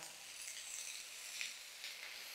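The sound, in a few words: onion and tomato frying in a pan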